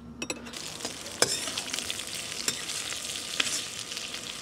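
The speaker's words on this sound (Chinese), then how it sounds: "哦，炒出红油来了。" Spicy sausage fries in hot oil in a wok, a steady crackling sizzle with sharp spatters and occasional scraping stirs, close and loud with no talk.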